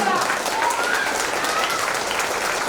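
An audience at an annual function of an education trust in Tamil Nadu claps continuously, a dense, steady roar of applause from a large crowd filling the whole moment.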